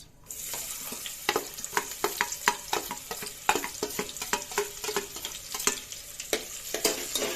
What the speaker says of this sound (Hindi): अब हम इसमें प्याज डालेंगे, एक बड़ी कटी हुई प्याज।